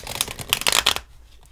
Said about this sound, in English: I'm just going to make this the last shuffle.